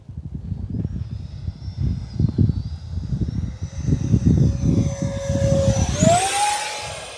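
A radio-controlled BAE Hawk model jet with a 50mm ducted fan streaks past. Its thin whine rises sharply and swoops as it passes close near the end, over a rumbling outdoor background.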